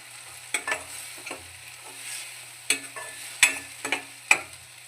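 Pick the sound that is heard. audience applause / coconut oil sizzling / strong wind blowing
coconut oil sizzling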